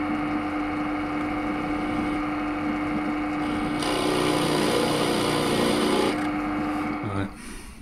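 Power drill boring a hole for connector bolts while rebuilding hospital bed rails, a steady high whirring grind that grows louder midway and then winds down, close up.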